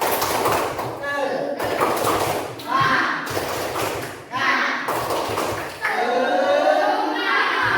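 Schoolchildren in a village classroom shout a rhythmic cheer together, their chanting voices loud and close and punctuated by bursts of group clapping and thumps in a repeating pattern.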